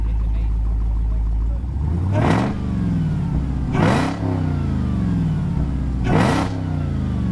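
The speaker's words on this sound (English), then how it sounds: "I'll do this quick rev for you so you guys can hear it." A Dodge Challenger Redeye with 797 horsepower is revved three times in quick succession, each burst climbing to a loud roar before falling back to a rumbling idle, heard up close.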